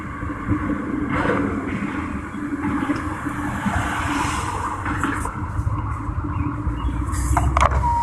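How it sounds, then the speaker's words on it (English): A long freight train rumbles and creaks past a railroad crossing, heard from inside a car with the window rolled down, a continuous low rolling roar with occasional squeals and clanks at moderate distance. "So, this train is still going by."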